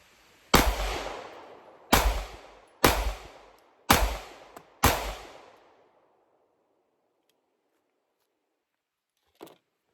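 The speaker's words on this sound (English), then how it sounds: "here's first shots of the Staccato CS" Five loud gunshots from a Staccato CS pistol fired at a range, spaced roughly a second apart, each a sharp crack with a ringing decay, followed by near silence and a faint clink at the end.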